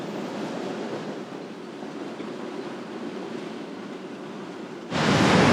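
Strong wind buffeting a beach with a broad rushing roar, steady for several seconds before a sudden louder gust blasts the microphone.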